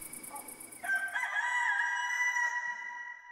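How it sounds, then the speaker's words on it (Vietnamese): Rooster crowing at dawn as an audiobook sound effect, a single long, loud cock-a-doodle-doo rising and then trailing off, heard alone over faint background ambience. "Tiếng gà gáy báo hiệu buổi sáng vang lên khiến cho vợ chồng chủ quán trọ giật mình tỉnh giấc."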